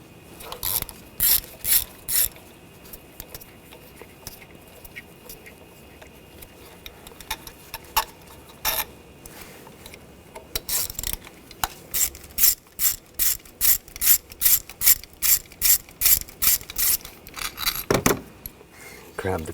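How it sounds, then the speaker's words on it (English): Close, sharp clicking from a ratchet fitted with a T30 socket backs bolts out of a 2013–2022 Buick Encore engine during a spark plug job, in short bursts that turn into a long, rapid, even run of clicks near the end. "Using a T30 socket, take these bolts out."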